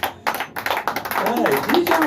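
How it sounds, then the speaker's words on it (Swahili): Church congregation clapping hands in irregular bursts that build into steadier clapping, with a voice speaking over it. "Pigie makofi mazuri"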